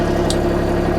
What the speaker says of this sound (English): Now, here, this is the engine